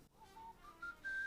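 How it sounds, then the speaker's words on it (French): A person whistles a short rising tune without moving the mouth, three or four sustained notes stepping upward, fairly quiet and alone. "Un truc marrant, c'était de siffler sans bouger la bouche."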